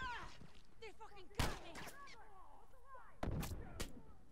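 Gunfire in The Last of Us multiplayer video game cracks out in several sharp, loud shots spaced a second or two apart, with chirpy game sounds and voices in the background.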